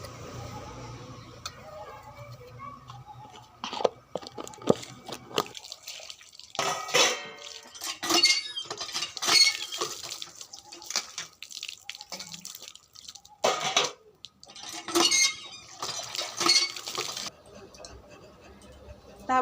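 Dishes and pots are washed under a tap, with bursts of running water, clinks and drips coming and going across the scene, and a voice speaks at times over the work.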